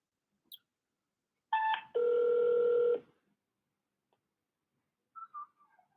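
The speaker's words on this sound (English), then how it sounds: "We're going to keep dialing for the next hour and 20 minutes." A telephone is dialed for a commercial cold call: a short tone, then a brief two-part dial tone followed by a long steady tone, then a few faint blips, in a quiet setting.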